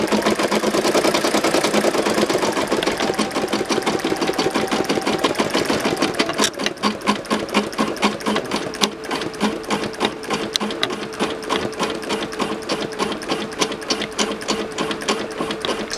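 A Brother embroidery machine stitches at speed with a rapid, even needle rhythm over a mechanical hum. It sounds close and steady, with a slight shift in tone partway through, and no one talks.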